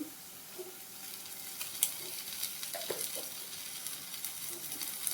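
A quiet pan sizzle as garam masala, coriander powder and ginger garlic paste are mixed in for cabbage manchuria, with faint scattered scrapes and taps of a spoon and no talking.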